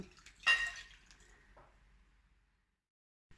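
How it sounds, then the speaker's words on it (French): Warm milk poured into a bowl holding baker's yeast, a brief soft splash and gurgle followed by a faint trickle, close and quiet, no voices. "donc je vais rajouter 250 ml de lait"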